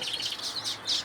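Exotic birds chirp in an aviary, giving soft, repeated high tweets at moderate distance with no voices present.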